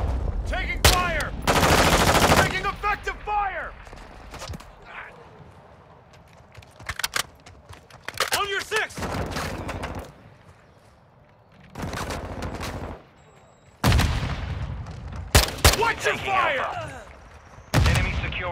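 Bursts of automatic gunfire crack loudly in Call of Duty: Modern Warfare II during an objective firefight, with several heavy volleys separated by quieter gaps, scattered single shots and faint radio chatter underneath.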